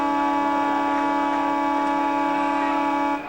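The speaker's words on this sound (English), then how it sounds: "the siren." A football ground siren at Glenelg Oval sounds one loud, sustained tone, steady and close, starting the first quarter of an Australian rules match, then cuts off at the end.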